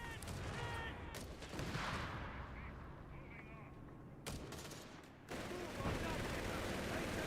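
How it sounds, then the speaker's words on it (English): Flak gunfire in the strategy game Company of Heroes 3, rapid bursts of anti-aircraft fire and explosions in a busy battle soundscape, with a commentator talking over it. "Flak gonna shut it all down."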